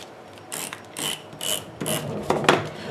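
A paper trimmer slicing excess cardstock from a card panel, giving a series of short scraping swipes in a loose rhythm, about five strokes, close and fairly loud with no voice over them.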